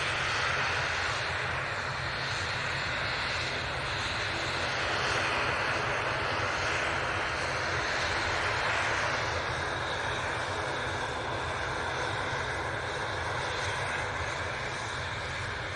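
Airliner departing Manchester Airport for Aberdeen, a steady loud roar of jet engines heard from nearby, broad and rumbling and holding at an even level without pause.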